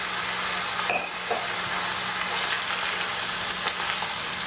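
Al dente spaghetti being stirred and mixed in a pan, a steady loud hissing sizzle with scraping stir strokes throughout, no voices.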